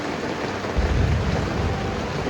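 Heavy rain pours onto a small campervan awning during a camping trip, a dense, steady drumming hiss that swells slightly partway through, loud and close with no talk.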